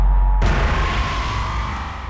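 A synthesized boom effect opens with a sudden deep hit and then a dense, rumbling tail that rolls on evenly for about two seconds, loud and alone.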